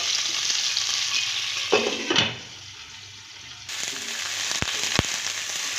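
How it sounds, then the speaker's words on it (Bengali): Cauliflower florets frying in a pan sizzle steadily while being turned, with scraping stirs, a short lull and a couple of sharp utensil taps near the end. "ফুলকপিটা একটু লাল লাল করে ভাজবো উল্টে পাল্টে।"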